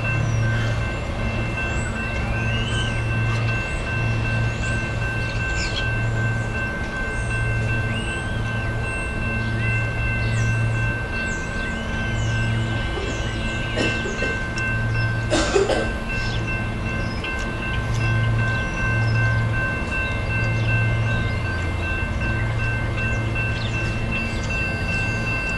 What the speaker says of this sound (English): This is train 6560.